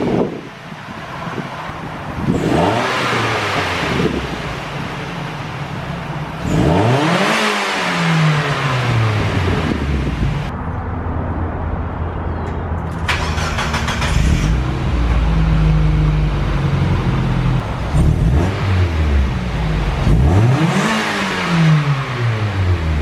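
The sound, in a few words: Mazda Miata engine revving with new headers, stock exhaust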